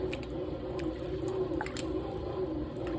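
Homemade salted butter being rinsed and squeezed by hand in ice-cold water, giving soft wet squishing and small drips over a steady low watery background.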